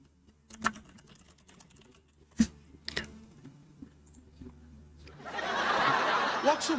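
Scattered clacks of a computer keyboard being typed on, sparse and fairly quiet, followed by a louder burst of muffled noise near the end.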